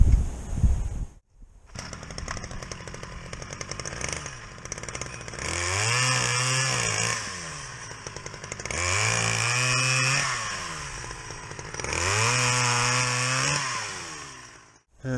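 A 1985 Sachs-Dolmar 108 chainsaw engine runs loud and close, idling and then revving up hard three times in steady swells before dropping back to idle, with no other sound over it.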